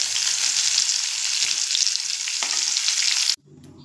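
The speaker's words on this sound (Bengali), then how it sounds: "আমি 1 থেকে 2 মিনিট মতো আমি একটু তেলের মধ্যে নাড়াচাড়া করে নিয়েছি" Rohu fish pieces fry and get stirred in hot oil, a loud, steady broadband sizzle close by that cuts off abruptly near the end, leaving quieter background.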